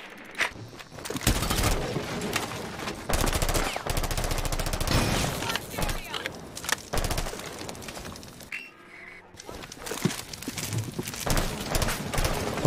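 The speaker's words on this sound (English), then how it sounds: "Stop shooting." Gunfire rattles through a Rainbow Six Siege match, loud bursts and rapid volleys nearly continuous, with a brief lull before the shooting resumes.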